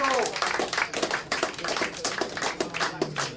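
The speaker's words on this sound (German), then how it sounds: "Applaus." Brief applause from a small audience at a cultural quiz event, individual hand claps pattering unevenly at close range while people keep talking over them.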